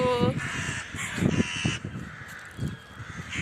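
Crows caw repeatedly in the background while people talk over them.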